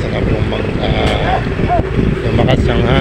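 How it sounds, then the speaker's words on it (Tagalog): Strong wind and choppy waves at sea off Bulan, Sorsogon, aboard a small fishing boat: a steady, loud roar of wind buffeting the microphone over rumbling water and a droning boat engine, with someone talking throughout. "lumakas ang hangin at saka may alon-alon na rin po."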